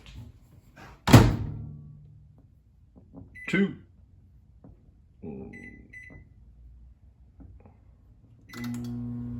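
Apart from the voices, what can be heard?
microwave oven door and keypad beeps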